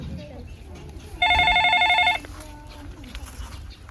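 A telephone rings with a single bright electronic burst lasting about a second, loud and close over a murmur of people talking in the background.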